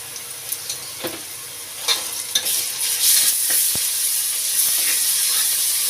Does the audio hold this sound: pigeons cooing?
no